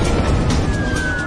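A fire station alert siren wails close and loud over a rumbling background, its tone holding steady through the short burst.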